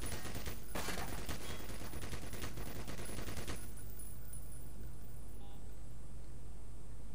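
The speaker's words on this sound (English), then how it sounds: "That is a mean gun." Heavy gunfire in the video game Black Mesa: a rapid, loud stream of automatic shots for about three and a half seconds, then cutting off to a quieter lingering rumble and faint ambient hum.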